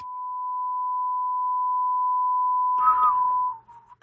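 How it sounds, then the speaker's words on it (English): A single steady, pure whistled tone held for about three seconds, then wavering and breaking off with a faint rustle at the end. "I was trying to whistle it at the same time"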